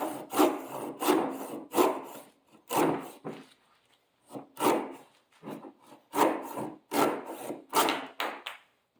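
Folding pruning saw cutting through a tree limb, close rhythmic rasping strokes back and forth, about a dozen distinct scraping pulls with brief gaps between them.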